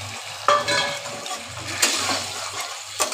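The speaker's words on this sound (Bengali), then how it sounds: "এবার আমি এই বড়াগুলো দিয়ে দিলাম এর মধ্যে" Fried lentil fritters (bora) drop into a pan of green chili paste and water, giving a bubbling sizzle and simmer. A few soft splashy knocks come through, with no voices.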